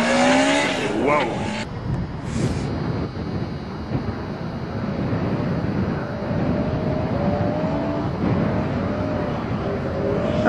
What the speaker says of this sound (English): That's the way you treat a motor that's still cold.